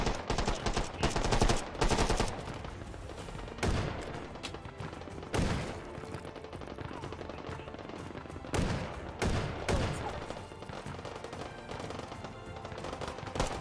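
Rapid automatic gunfire and bursts of shots fill an arena-style, guns-only battle in the VR shooter H3VR, loud and continuous with heavier volleys recurring every few seconds and no talking.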